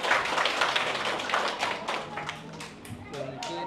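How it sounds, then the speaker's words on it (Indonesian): An indoor audience claps in a steady burst of applause that tapers off, with voices talking over the clapping. "Boleh tepuk tangan"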